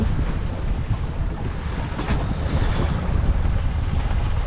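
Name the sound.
wind at sea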